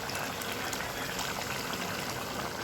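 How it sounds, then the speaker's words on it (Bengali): Thick, spicy egg curry is poured into a bowl, giving a steady wet, gloopy pouring sound that runs continuously with no talk over it. "তো একটা পাত্রে আমি ঢেলে নিচ্ছি"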